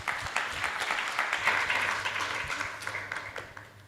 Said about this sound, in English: A bigger round of applause.